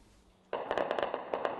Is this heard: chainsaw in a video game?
no